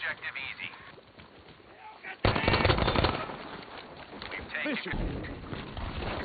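A light machine gun fires in sustained automatic bursts in a video game, loud rattling volleys that start abruptly and continue under someone talking.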